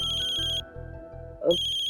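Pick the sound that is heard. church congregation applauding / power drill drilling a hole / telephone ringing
telephone ringing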